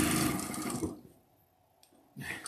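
A sewing machine stitches fabric in a basement sewing room, a dense whirring run for most of a second, then quiet, with the motor starting up again briefly at the end.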